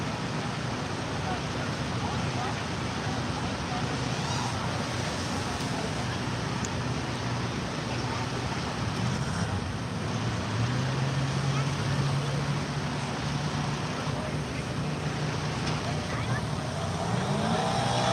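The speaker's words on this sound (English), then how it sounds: "Do y'all see the vibration of the cars going by in the camera?" Cars go by on a road near a race venue, a steady roar of engines and traffic noise with passing swells, while people talk over it.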